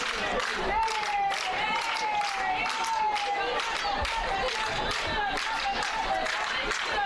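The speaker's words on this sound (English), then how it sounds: "Crowd showing some life." A stadium crowd at a women's college soccer tournament match between Tampa and Embry Riddle claps and cheers steadily throughout, a constant wash of applause under a commentator's voice.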